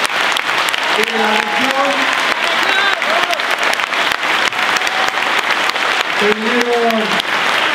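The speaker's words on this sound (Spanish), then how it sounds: "aplauso a todos los vecinos de Junín" Steady crowd applause from a political rally crowd in Junín fills the whole stretch, loud and continuous, with a person speaking over the clapping throughout.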